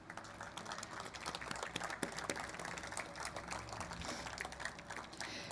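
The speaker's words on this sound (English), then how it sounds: "let's give them a round of applause" An audience at a Long Beach Motorsports Walk of Fame ceremony applauds, a faint, steady wash of many hands clapping at a distance with some quiet murmuring underneath.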